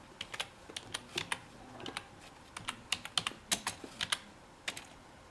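Computer keyboard typing in a word processor, with irregular bursts of distinct keystrokes and short pauses, close and clear with no talk.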